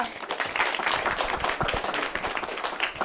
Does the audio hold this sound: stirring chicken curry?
no